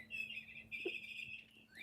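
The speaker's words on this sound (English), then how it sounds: "Ignore the bird." Indoor bird chirping continuously in a house, a bright tweeting trill that runs through the whole moment at moderate level with no talk.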